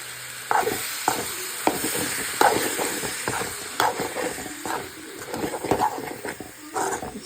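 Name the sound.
liver frying and being stirred in a pan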